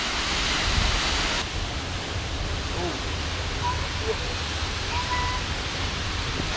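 Jeongbang Waterfall on Jeju, heard from close by, gives a broad, steady roar of falling water that fills the scene, with faint voices now and then.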